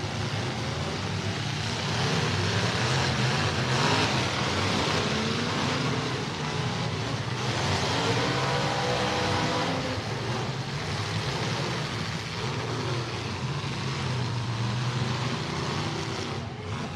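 An F-21 radio-controlled car runs at an outdoor bash event, its motor whining and rising and falling in pitch as it drives, over a steady broadband rumble of wind or ambient noise.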